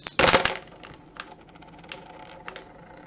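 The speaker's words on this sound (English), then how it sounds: "And we're looking for hits on these dice." Dice rolled onto a tabletop during a Strontium Dog miniatures game: one loud, close clattering burst, then a few sparse, softer clicks as they settle, with no talking.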